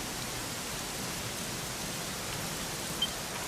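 Steady rain in Dragon Quest XI, a constant even hiss of falling rain, fairly close and unbroken, with no talking.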